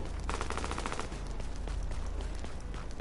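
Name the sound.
submachine gun fire in video game Tom Clancy's The Division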